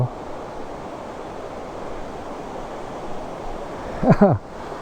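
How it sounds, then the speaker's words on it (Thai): Strong flowing water at a waterfall makes a continuous broadband rush, steady and fairly loud throughout, with a brief voice near the end. "น้ำแรงมาก"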